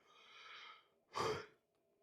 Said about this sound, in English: sorry if I make you yawn. I have a severe yawning problem